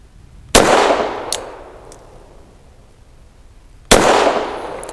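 An EAA Girsan MC14 pistol fires 95 grain full metal jacket rounds: two loud, sharp shots about three seconds apart, each followed by a long fading echo, with no talking.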